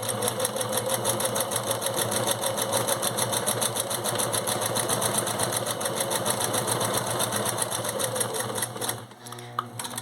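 A home sewing machine stitches right along the edge of a piece of fabric, a fast steady mechanical chatter that runs continuously and close up, then stops abruptly with a few faint clicks.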